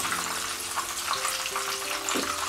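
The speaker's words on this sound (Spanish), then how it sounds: "Vamos a proceder a freírlo y ya veremos el resultado." Breaded Asturian veal cachopo sizzles in hot oil in a pan, a dense, close, continuous crackle with a faint tonal hum beneath and no talking.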